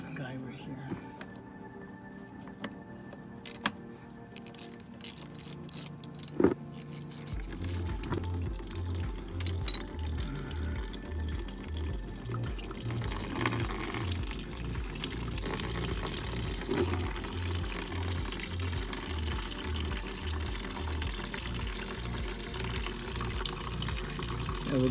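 Coolant drains from a Nissan Titan radiator after a plug is opened, a steady liquid stream running continuously and growing fuller partway through.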